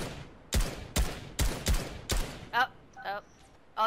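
Fortnite gunshots ring out in five evenly spaced loud cracks, each with a short decaying tail, followed by fainter distant shots and a voice speaking briefly.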